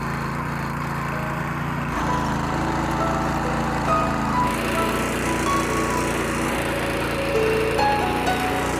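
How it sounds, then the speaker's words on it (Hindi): Rope pull-start farm machine engine running outdoors on a hillside farm, a steady, close, rough mechanical drone with slight shifts in pitch and load throughout. "एक ही सेकंड में मशीन स्टार्ट हो गई और फिर बंद भी हो गई"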